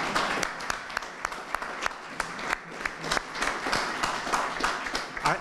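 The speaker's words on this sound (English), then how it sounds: "Let's have a round of applause for the interpreter" An audience at an evening talk applauds the interpreter, many hands clapping with distinct sharp claps standing out from the crowd, sustained and fairly soft throughout.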